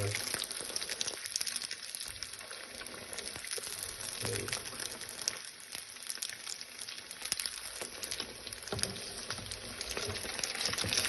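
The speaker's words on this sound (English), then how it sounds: "Now I'm going to fry the rest of them" Sicilian arancini rice balls deep-frying in a pot of hot oil, with a steady, crackling sizzle and bubbling that carries on evenly throughout, close and moderately loud.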